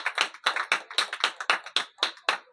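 A church audience claps in a steady rhythm, about a dozen crisp, evenly spaced claps close by, with no voices over them.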